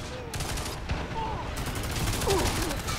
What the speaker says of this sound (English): I'm getting fucking shot at